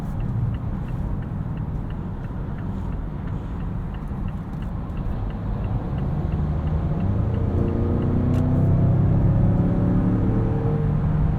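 A 2022 Mazda CX-9 Signature SUV with front-biased all-wheel drive accelerates in first gear, heard from inside the cabin as a steady engine rumble and road whir that grows louder and rises in pitch over about eleven seconds.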